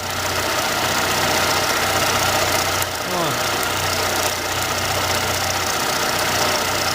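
A router milling shallow half-millimetre grooves runs as a loud, continuous droning whine with steady motor hum, holding constant throughout with a brief tonal sweep near the middle.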